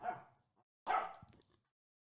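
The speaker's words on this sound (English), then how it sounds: "Oh, Fiona's growling again" A puppy gives two short, gruff vocal bursts about a second apart, close and fairly quiet, with silence between them.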